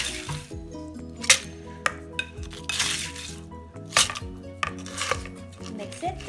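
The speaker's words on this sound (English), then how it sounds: "And then we will mix it." Fruit dessert with ice is stirred in a bowl for a Khmer traditional sweet, with repeated clinks of ice and utensil against the bowl and a steady scraping, clattering rhythm close by.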